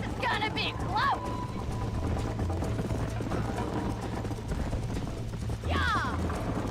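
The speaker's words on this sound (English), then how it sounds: "You're gonna wear that horse out!" In Red Dead Redemption, a horse gallops with steady clip-clop hoofbeats during a race. The hooves are heard alongside game voices and whistling calls, and a person talks throughout.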